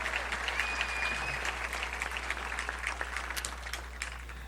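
An outdoor crowd at the 1992 Florida Folk Festival in White Springs claps at a Gamble Rogers tribute, steady, moderately distant applause with scattered sharp claps and a faint whistle throughout.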